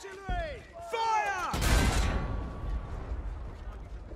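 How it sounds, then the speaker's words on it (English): A broadband blast from artillery firing in the Battlefield 1 World War I campaign bursts out after a voice speaking over battle noise, then rumbles and fades into a lingering low roar. "All artillery! Fire!"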